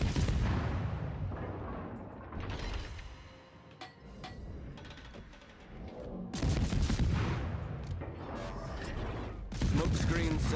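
Ship guns firing in the naval battle game World of Warships, heavy booming salvos rolling out in bursts with mechanical clatter between them, loud and close, with a voice talking at times.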